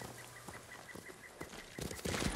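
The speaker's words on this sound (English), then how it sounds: "Another bird." A bird calls in the Ghost of Tsushima video game, a series of short repeated chirping notes at a steady pace, later joined by louder rustling bursts of game sound.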